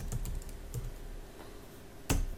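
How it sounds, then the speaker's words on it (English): Computer keyboard typing, a few scattered key taps up close with one louder keystroke near the end, against a steady background hiss. "I should probably try to type a bit slower, and I'll make less of those typing errors"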